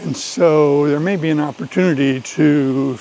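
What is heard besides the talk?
No everyday noises stand out.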